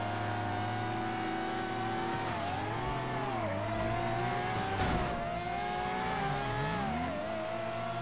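Race car engine in a Formula 1-style racing game, revving up and down through gear changes with a brief tire scrub midway, steady and moderately quiet with no speech.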